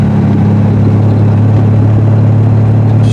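Triumph TR6 engine running steadily on a twisty road, a loud, continuous mid-pitched drone with a strong low hum and no break, heard from inside the car.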